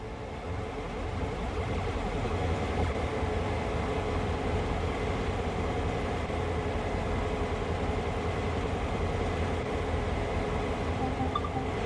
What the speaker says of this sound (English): run this locomotive to the other end using the adjacent track.